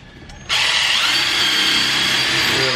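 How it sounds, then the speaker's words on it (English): A power drill bores holes into a wooden curtain rod holder, starting abruptly after a brief quiet moment and then whirring steadily and loudly up close to the end. "drill a couple holes from the back, and drive some screws home."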